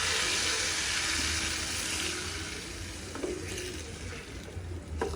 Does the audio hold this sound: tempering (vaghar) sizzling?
yes